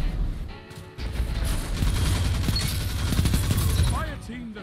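Rapid automatic fire from a Peacekeepers SMG in Destiny 2 crackles in quick bursts at close range, mixed with impacts and game effects, while a voice talks over the shooting.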